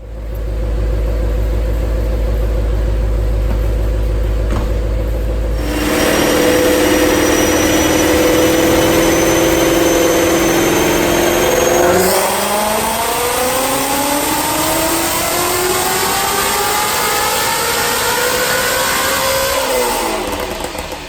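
A Whipple-supercharged Ford Mustang GT350 making 789 rear-wheel horsepower runs on a dyno. The engine idles, then climbs in a long, loud rev with supercharger whine, drops back and pulls again through rising sweeps, near and continuous, with no voices.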